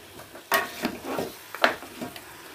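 Beef and bones being stirred and roasted in a pot for nihari, several bursts of sizzling and scraping as the meat is turned, close and moderately loud between quiet gaps.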